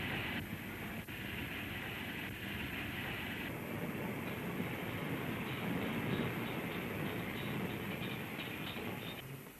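An LMS steam locomotive of 1939 pulls off the engine shed, giving a steady low rumble and hiss of moving machinery, with a faint higher hiss that fades partway through, and no talking.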